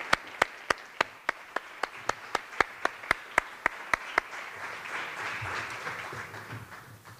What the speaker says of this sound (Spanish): pido un fuerte aplauso para Gloria, tutora de Pablo y Beltrán, y a los papás de ambos